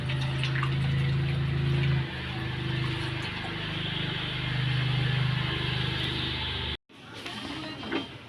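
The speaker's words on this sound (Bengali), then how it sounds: "এবার জল দিয়ে দিলাম।" Water pours into a pot of potatoes and green chillies, a continuous rushing fill with a low resonant tone, then cuts off abruptly and leaves faint dripping and settling.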